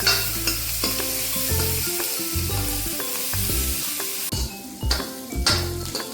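Cumin seeds, dry coriander and spices roasting in hot oil in a pan for Punjabi kadhi, a continuous close sizzle with repeated metallic stirring scrapes and clinks throughout.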